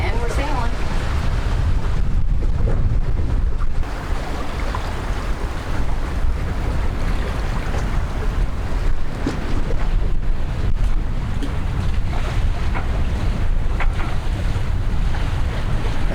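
A sailboat moves under sail through waves with its diesel engine shut off: wind buffets the microphone and water rushes and splashes against the hull continuously, loud and close, with faint voices in the background.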